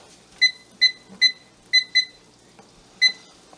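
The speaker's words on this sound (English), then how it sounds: "setting a timer for 20 minutes" Kitchen timer beeping in short electronic tones while it is set beside a pot of boiled eggs, six crisp beeps in an uneven rhythm, close and clear over faint room noise.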